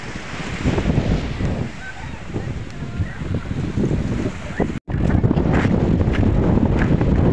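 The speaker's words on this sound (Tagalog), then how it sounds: "Lakas lang ng alon guys." Strong ocean waves wash onto a beach in a steady, loud roar, with gusty wind buffeting the microphone and a brief dropout partway through.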